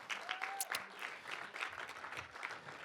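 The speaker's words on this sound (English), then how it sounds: "Give them a round of applause." An audience applauds the judges at a pitch competition event, a steady patter of clapping from a moderately sized crowd heard from some distance.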